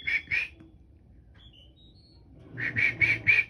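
A standard poodle whistles while watching a movie, two short high whistling notes, a pause, then four more in a quick run, close by and clear.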